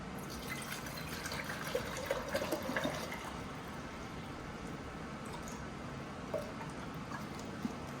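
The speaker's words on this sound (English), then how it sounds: "I'm going to add enough water to cover our plating rig and then some" Water poured into a container to cover a copper plating rig, a faint continuous liquid trickle with small splashes and drips, quiet and alone.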